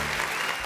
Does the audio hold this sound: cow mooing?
no